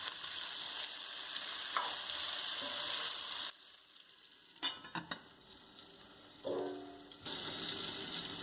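Chicken feet for Jamaican curry sizzle and hiss in a pot as they release their own liquid. The steady frying breaks off briefly, with a few clinks and stirring sounds before the sizzle resumes.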